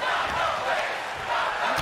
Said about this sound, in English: Crowd really chanting right now.